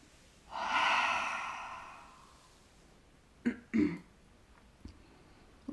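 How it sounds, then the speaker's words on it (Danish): One long, deep breath drawn slowly and softly during a guided chakra-balancing meditation, followed after a pause by a couple of short, sharp exhales or sniffs and a faint final puff, with no speech. "Tag en dyb vejrtrækning."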